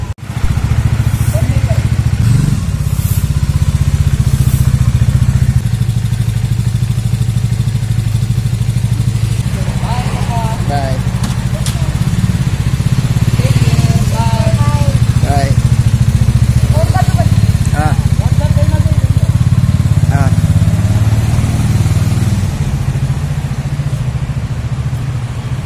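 A motorcycle rides along a road in Gujarat with a steady, loud engine drone running throughout, plus wind rumble and brief faint chirps or horn-like tones mid-ride; a voice speaks faintly at times.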